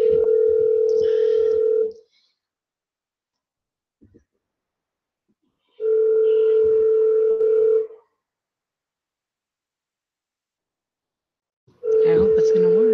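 A telephone call rings out in three long, even tones about six seconds apart, each roughly two seconds of steady electronic ringback with silence in between. A brief faint click falls in one of the gaps.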